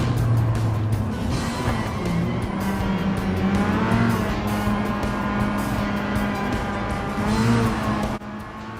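An Amuse S2000 race car driving in Gran Turismo 7, a loud steady high-revving engine drone with shifting pitch and brief gear changes, heard continuously and close up.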